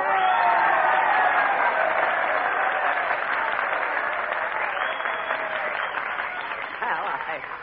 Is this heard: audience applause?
yes